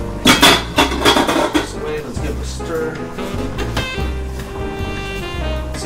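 A spoon stirs cooked shrimp and vegetables in a pan for penne rustica, with a few sharp clatters and scrapes of the utensil against the pan up front, then softer sizzling and shuffling while a person talks.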